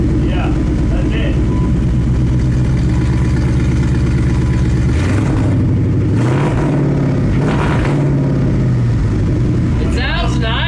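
A Ford F150 with a Coyote V8 swap and straight-piped exhaust idles, then revs several times in rising, surging bursts before settling back, loud and close, with people talking over it.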